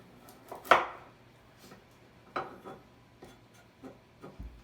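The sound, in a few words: chopping carrots with a knife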